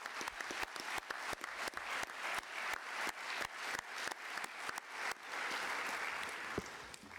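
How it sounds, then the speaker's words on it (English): Audience applause for a production team at a drone-industry closing session, a dense, steady crowd clapping with sharper individual claps punctuating it, sustained and fairly loud throughout. "I'd like to ask for a round of applause for all the work on the production"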